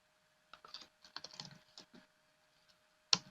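Short command typed on a computer keyboard in a Linux terminal: quick, close key taps in small clusters, then a pause and one louder final key strike, like Enter.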